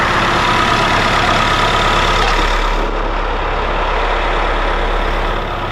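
A Bobcat T66 machine idles with a dense, continuous engine clatter and broad mechanical noise, loud and close, holding steady with a slight drop partway through.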